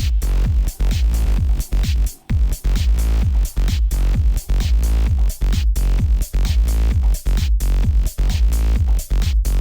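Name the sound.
DJ record fading in over outro loop in Ableton Live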